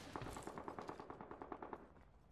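Automatic gunfire in the video game Apex Legends, a fast rhythmic burst of a dozen or so shots, faint and slightly distant, with no talk over it.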